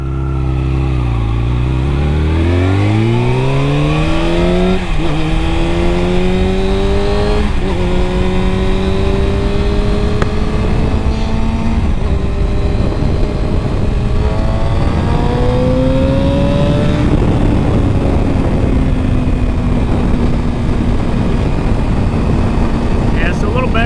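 A 2009 Kawasaki ZX6R motorcycle riding on the road, heard loud and close as the engine revs climb sharply through several gears, with each upshift dropping the pitch, then settling into a steady high drone.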